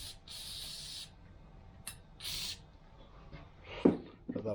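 Short hissing bursts of spray lubricant applied to a part of a Range Rover Classic or P38 air suspension, three or four close, quiet sprays with some handling clatter at the end.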